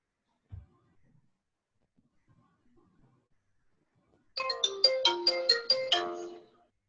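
A phone ringtone plays a quick run of bright repeated melodic tones after a quiet stretch, with only a faint bump and near silence before it.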